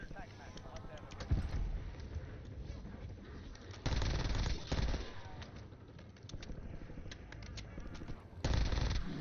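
Bursts of gunfire from a mounted gun in Call of Duty: Warzone crack out in short rapid clusters at three or four points, fairly faint and mixed with game sounds and voices talking underneath.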